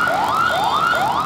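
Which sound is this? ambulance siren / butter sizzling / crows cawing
ambulance siren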